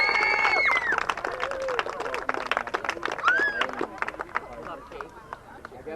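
After a baseball game, a small crowd claps for three seniors, a patter of scattered applause that thins out over a few seconds while people talk over it.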